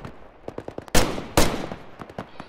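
Gunfire in the Roblox tactical shooter Fireteam: scattered single shots crack around two louder, close blasts, the rest sounding more distant.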